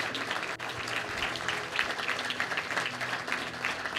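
Loud, sustained clapping fills a church as the congregation applauds together, a dense wash of claps with slight swells and a brief dip near the start, faint voices mixed in.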